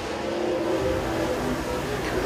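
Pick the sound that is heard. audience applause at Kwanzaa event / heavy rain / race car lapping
race car lapping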